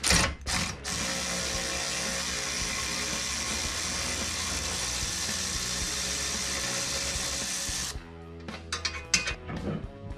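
A ratchet clicks rapidly and continuously while backing a bolt out of a Polaris RZR steering assembly, one long close-up burst, then a few shorter ratcheting spurts and metallic knocks at the end.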